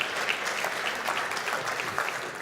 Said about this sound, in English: Let's give them a round of applause for going and thinking of something different